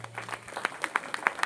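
A church congregation at a feast-day mass claps in a short burst of scattered, uneven hand claps with several sharp, distinct slaps standing out near the end.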